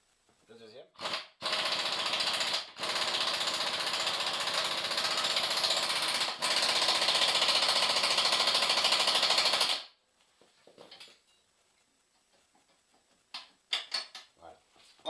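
A pneumatic impact wrench hammers loudly and continuously for about eight seconds, tightening bolts on a Peugeot 206 S16 GTI, with short stutters, followed by quiet clinks and a voice speaking.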